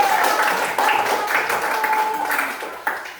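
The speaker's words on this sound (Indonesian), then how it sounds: "Iya, tepuk tangan." Classroom applause from students, a dense steady patter of clapping with a voice speaking over it and a brief whistle-like tone running through.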